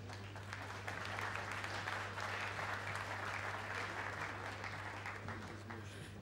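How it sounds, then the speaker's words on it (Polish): An audience at an evening forum event applauds steadily, a continuous wash of many hands clapping at a moderate distance, even and sustained, with a low steady hum beneath. "Wielkie brawa."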